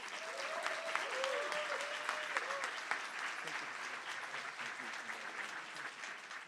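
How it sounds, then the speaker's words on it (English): Gala audience applauds an honoree, a steady wash of many hands clapping at moderate distance, with faint voices and a short tonal sound murmuring underneath early on. "Let's give Dr. Mahmood another round of applause"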